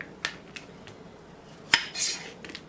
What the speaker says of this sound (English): I'm just going to cut the ends off of it, and then I'm just going to cut it in chunks or slices